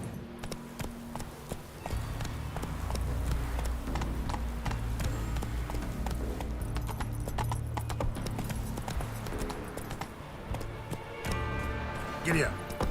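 Roach the horse galloping in The Witcher 3: Wild Hunt, with steady rhythmic hoofbeats throughout over game music and ambience, while a person talks over the top.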